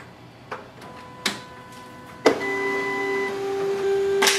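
A Canon imageClass MF654Cdw colour laser printer powering up: a few sharp clicks, then a steady whirring hum with a high tonal whine as the mechanism starts, close and fairly loud with no talk.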